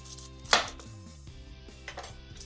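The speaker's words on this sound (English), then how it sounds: "So I'm going to start by slicing up the end part of the pineapple," A knife cuts the end off a pineapple on a board, giving one sharp chop followed by softer scraping and a second lighter cut, close and fairly quiet with no talk.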